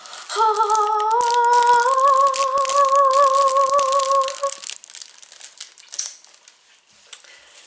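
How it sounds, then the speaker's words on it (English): A plastic wrapper crinkles loudly right beside the microphone, a dense rustling crackle over a steady tonal hum for about four seconds, then a few quieter scattered rustles as it settles. "Sorry if that crinkling came out really loud right next to the mic."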